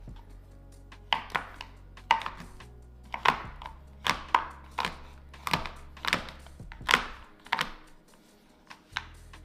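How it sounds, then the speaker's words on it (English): A knife chops through a Ghirardelli dark chocolate bar on a board, a run of about a dozen crisp, close cutting knocks at an uneven steady pace. "So let's cut up the dark chocolate bar."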